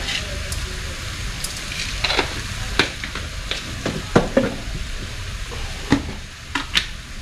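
A spoon stirs dried frog adobo in a pan, with scraping clinks and scattered knocks over a soft continuous sizzle, close and fairly quiet.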